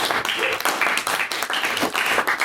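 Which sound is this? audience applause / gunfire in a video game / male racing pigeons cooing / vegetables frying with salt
audience applause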